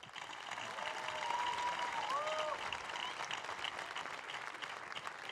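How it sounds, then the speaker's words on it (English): An audience applauds at a tennis hall of fame induction ceremony, steady sustained clapping from a large crowd filling the room, with a faint whistle or cheer rising briefly over it. "Won't you once again give a round of applause to Martina Navratilova and Andy Roddick."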